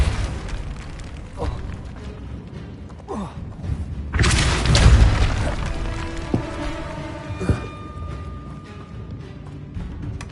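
A Repulsor spell in Hogwarts Legacy goes off with a sudden loud whooshing blast and heavy boom, set among other scattered magical thumps and impacts in a busy game soundscape.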